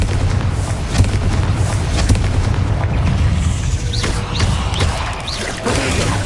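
Fiery blasting-spell explosions in Hogwarts Legacy, a dense, loud rumble of booms and crackling bursts with a few sharp whooshing flares, continuous and close.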